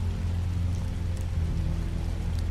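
Steady rain in The Wolf Among Us video game, a dense even patter with a low rumbling bed, close and continuous throughout.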